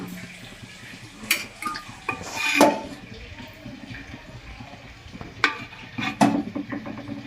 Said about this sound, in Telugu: ఇవాళ అటిక వేడెక్కింది, ఇప్పుడు నూనె పోసుకుందాం.